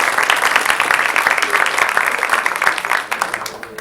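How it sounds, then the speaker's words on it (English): An audience at a school awards ceremony applauds: a dense, even patter of many hands clapping at once, fairly close and loud, holding steady for a few seconds before starting to thin toward the end. "so that we can give you a round of applause"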